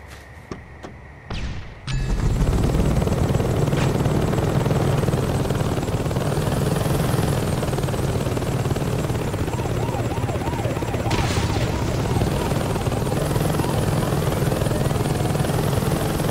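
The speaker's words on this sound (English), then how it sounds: "You take a helicopter and blow those things up, you'll crash their security." Helicopter rotor and engine in the Saints Row 2 video game, a loud steady thrumming drone that starts abruptly after a brief quieter lead-in and holds continuously to the end.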